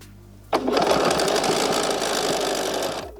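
A sewing machine starts abruptly and runs at a steady, fast whirring, close and loud for about two and a half seconds while top stitching elastic into a bodysuit, then stops.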